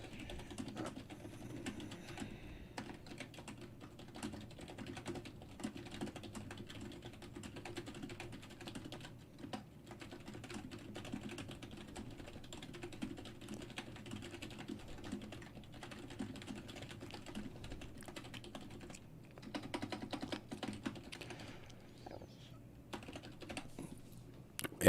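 Steady, fairly faint typing on a computer keyboard, a continuous patter of light key clicks that goes on for about twenty-five seconds in a quiet room without anyone talking.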